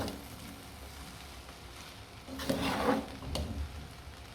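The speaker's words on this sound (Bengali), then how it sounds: "এখন এই চালটা ভালো করে মিশিয়ে নেব।" Boiled rice being stirred and turned in a small pan, a soft scraping stir under a faint sizzle, with louder scraping bursts toward the end and no talk.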